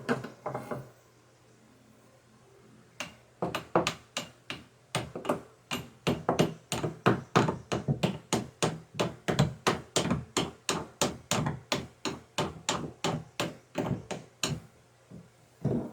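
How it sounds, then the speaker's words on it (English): A hammer taps a metal bolt in a long, steady series of sharp, evenly spaced strikes, close up, after a brief quiet start, while fitting a boat's centerboard mechanism. "I need a hammer to tap with here."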